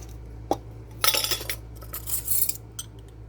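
A metal spoon scraping and clinking inside a glass jar of homemade, home-canned Dijon mustard, a sharp tap followed by a run of bright rattling scrapes, close and fairly loud in a kitchen.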